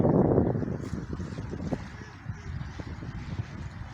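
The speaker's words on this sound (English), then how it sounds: "Noch mehr Wind. Jetzt höre ich es raschen." Outdoor wind buffeting the microphone, a steady low rumbling roar that is loudest at the start and then eases to a constant gusty hiss.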